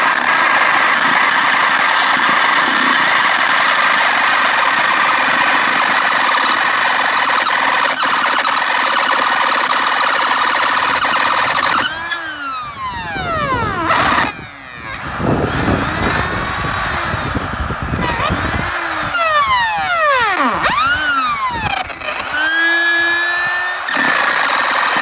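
A brand-new power tool with a stripped gear pressed against a small piece of wood: a steady whirring drone, then from the midpoint repeated grinding bursts with rising and falling squeals, stopping and starting several times, loud and close.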